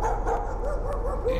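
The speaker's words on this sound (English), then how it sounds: "Why are you barking?" A dog barks in the horror video game Layers of Fear, coming as a run of yipping, whimpery barks over a dense, hazy, rumbling game ambience.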